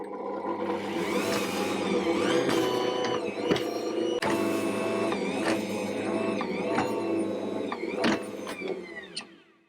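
Ankarsrum stand mixer kneading plaited Easter bread dough: a steady loud motor whir with a mechanical rhythm and periodic squeaky, rising tonal sweeps as the dough turns, running alone until it winds down at the end.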